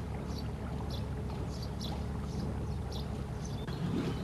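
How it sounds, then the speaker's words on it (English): Steady low chug of an elderly petrol motorboat engine under a rhythmic water plopping, continuous and even throughout. "No sound save the steady plop-plop of our elderly petrol engine"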